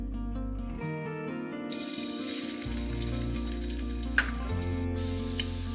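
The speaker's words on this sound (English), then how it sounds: "Once my oil gets heated, I am going to fry the sliced coconut." Sliced coconut frying in hot oil in an uruli pan, a dense, steady close sizzle with a faint crackle, heard over a low tonal hum, without speech.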